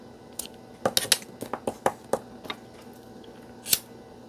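Scissors snip through the base of a rolled organza ribbon rose: a quick series of sharp, close cuts in the first half, then a pause and one last snip near the end.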